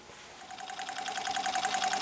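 A homemade Stirling engine built on a Bridgeport mill runs with a fast, steady mechanical ticking and whirring. The chattering beat is close and fairly quiet and grows slightly louder over two seconds, with no voices.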